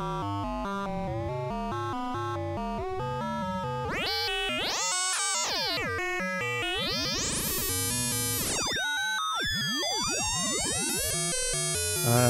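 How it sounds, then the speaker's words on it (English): Modular synth VCO with exponential FM, the modulation oscillator's frequency swept so the tone morphs from buzzy harmonics into wild swooping, clangorous metallic glides, loud and continuous. "What you hear there is adjusting the frequency of the modulation oscillator."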